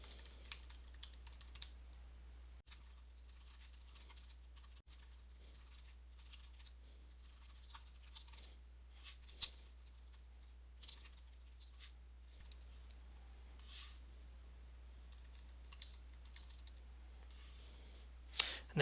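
Steady typing on a computer keyboard, with quiet, close key taps and clicks running in irregular bursts and short pauses over a low constant hum.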